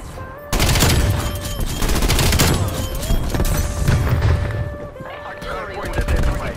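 Rapid automatic gunfire in Call of Duty Warzone, dense loud bursts of shots with short pauses over continuous game sound and music tones, with a voice talking at points.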